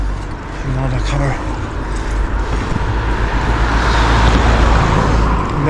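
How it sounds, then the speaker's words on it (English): A car drives past on a steep street along a tough hill-climb cycling route, a steady broadband road rumble that swells slightly toward the end, with background voices underneath. "Another car."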